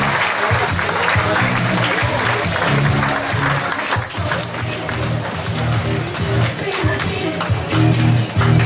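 Audience applause at a parish festival fashion show, a dense sustained wash of clapping from a crowd, steady and fairly loud throughout with music or murmur underneath.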